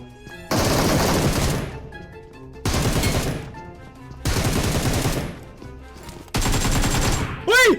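Shotgun blasts in the mobile battle royale game PUBG Mobile: four loud, heavy bursts spaced a second or two apart, each with a broad crack and decaying tail, over quieter game ambience.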